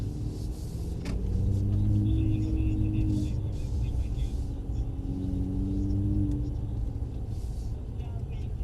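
A Mercedes CLS coupe drives along and accelerates, giving a steady low engine rumble from inside the cabin that swells twice as the car picks up speed, with someone talking over it.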